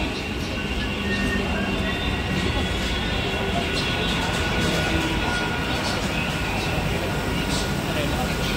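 A Mumbai local train passes through Dombivli station, a steady, loud rumble that fills the platform throughout, with station bustle and voices mixed in.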